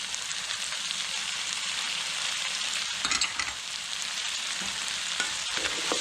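Creamy chicken succotash with par-cooked lima beans, tomato and hot sauce sizzles in a hot pan. A steady, close hiss runs throughout, broken by brief scraping stirs.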